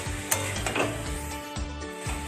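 Cabbage and potato curry stirred in a pan, a steady close sizzle of frying with scraping stir strokes and a few light clinks of the spoon against the pan.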